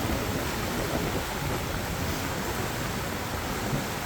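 Water crashing over a dam spillway on the Fox River, a loud, dense, continuous roar that holds steady and close for the whole stretch with no talking.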